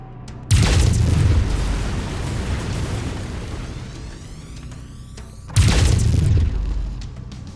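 Lasers fired from a mech in MechWarrior 5, two heavy booming blasts spaced about five seconds apart, each a loud sudden burst that decays slowly into a long sizzling tail.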